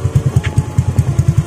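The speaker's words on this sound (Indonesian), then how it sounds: "Kita coba tes on aja ya knalpotnya." A Honda Beat FI scooter with an aftermarket exhaust idles in a workshop, its engine thumping in a quick, steady pulse of low exhaust beats, close and loud with no talk.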